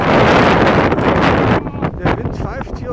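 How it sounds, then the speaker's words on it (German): Strong wind gusting across a mountain path on Teide in Tenerife, roaring loudly against the microphone for over a second before dropping to fainter rushes as someone begins talking. "der Wind pfeift hier um die Kurve."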